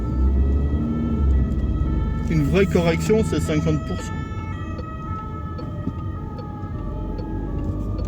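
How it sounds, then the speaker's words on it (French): An emergency vehicle siren outside wails for a couple of seconds in the middle, rising and falling under continuous close speech and steady traffic-like background noise. "Attends, il y a la sirène bleue."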